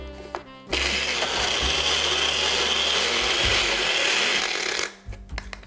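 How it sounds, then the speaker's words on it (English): An electric coffee grinder pulverizes a tablespoon of anise seeds with cinnamon in a loud, steady whir of roughly four seconds. Quiet clicks come before and after it. "1 tablespoon of anise seeds, and the cinnamon in a coffee grinder, or you could use a food processor like this one, and we will grind all these ingredients together."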